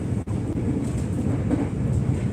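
A passing train heard from a distance: a continuous low rolling rumble with faint rail rattle, steady and fairly loud, with no voices.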